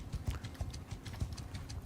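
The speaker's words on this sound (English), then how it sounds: "looks like I need to give horse riding a try" Horse hooves in Mount & Blade II: Bannerlord beat a steady clip-clop while riding, quiet and rhythmic with soft hoof thuds repeating about every third of a second.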